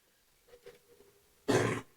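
A single close, loud cough bursts right against the microphone in a quiet room during a Texas podcast conversation, preceded by faint soft murmuring.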